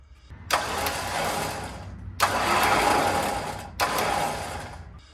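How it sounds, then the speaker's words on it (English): A Warn electric winch in a truck whirs in three loud bursts while winching out, each starting abruptly and running a second or more before cutting off, with short pauses between. "You can hear it. It's winching out."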